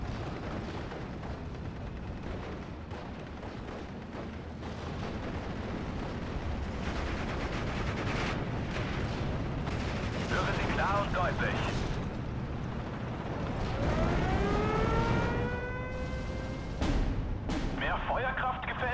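Artillery fire in the WWII strategy game Steel Division: Normandy 44: booming shell blasts and rumbling impacts over a dense battle background, with radio-style voices talking over it and a rising whistle of incoming shells near the end.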